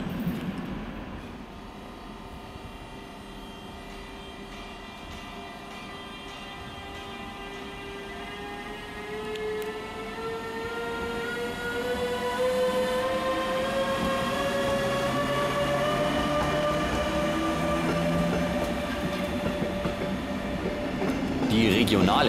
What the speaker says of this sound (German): Diese zwei 612er fahren ins unterfränkische Bad Kissingen und ins thüringische Erfurt.